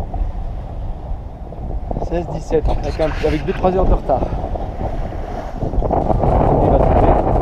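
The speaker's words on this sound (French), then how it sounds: "Ça y est, le vent est arrivé." Steady wind roars over a moving sailboat off the Algerian coast near Ténès port, with water rushing, while someone speaks briefly over the noise partway through.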